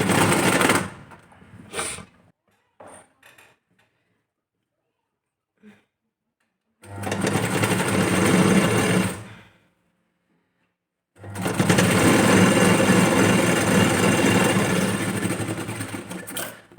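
Sewing machine stitching tucks on a blouse: several bursts of loud, fast mechanical whirring close by, the longest lasting about five seconds, separated by quiet pauses with a few small clicks.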